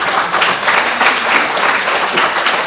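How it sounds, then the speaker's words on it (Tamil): Steady, dense applause from an audience at a Tamil motivational talk, many hands clapping loudly and evenly for a few seconds with no voices. "எக்ஸலன்ட், கைதட்டுக்க இருக்கு."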